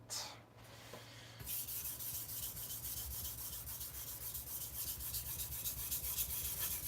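A knife blade is rubbed steadily against a sharpening stone in repeated, even strokes, producing a close, continuous abrasive scraping that runs without pause after a brief quieter start.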